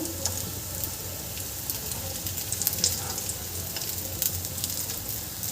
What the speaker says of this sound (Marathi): अशा प्रकारे आपल्याला दोन्ही बाजूने छान शॅलो फ्राय करून घ्यायचं आहे